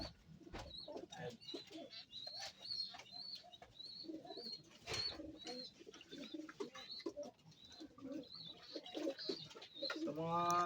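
Several pigeons coo repeatedly at close range, with soft chirps and rustling around them and a brief voice at times.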